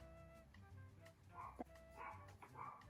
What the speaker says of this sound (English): I can hear my dog barking.